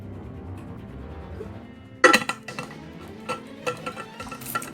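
Sharp clinks of glass and tableware from someone pausing to drink water, a loud first knock followed by several lighter clinks and taps, close and without speech, after a quiet low rumble.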